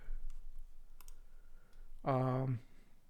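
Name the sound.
mouse clicks in a database application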